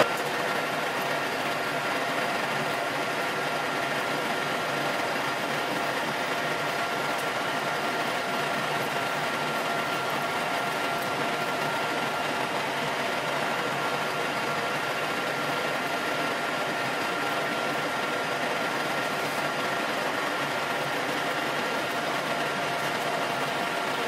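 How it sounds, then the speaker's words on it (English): Metal lathe at about 1300 RPM turning a ball with a dividing head, giving a steady, unbroken mechanical whir and hum that holds at an even level throughout, with no talking. "I've stopped the lathe to show you where I'm up to."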